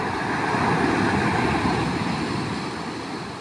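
Heavy, continuous roar of a surging sea swelling high enough to flood the road and houses, loud and steady with wind noise mixed in and no pauses.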